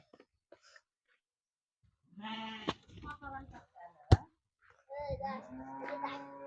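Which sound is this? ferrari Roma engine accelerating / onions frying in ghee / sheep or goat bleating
sheep or goat bleating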